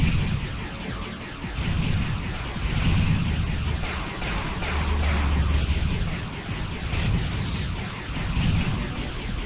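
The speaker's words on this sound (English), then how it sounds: "Oh, I hear shooting." Shooting and explosions in a video game, a dense, continuous barrage of booms and bursts that swells and falls across the whole stretch, loud and with no talk over it.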